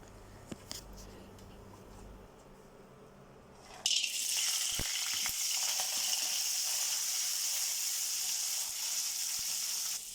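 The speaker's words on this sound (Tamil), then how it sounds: "நான் கொஞ்சம் லைட்டாக வதக்கி எடுத்துக்கலாம்" Onion, green chillies and almonds drop into a little hot oil in a pan and burst into a loud, steady sizzle that carries on alone, with a few light scrapes of a spatula.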